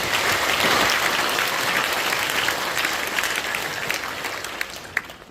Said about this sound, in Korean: 우리 서로 감사하는 의미에서 박수 한번 쳐주시기 바랍니다.